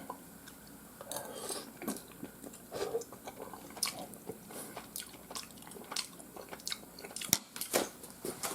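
Chewing and slurping of steak ramen comes close up, with irregular soft bites, wet mouth sounds and a few sharp clinks of a utensil against a bowl.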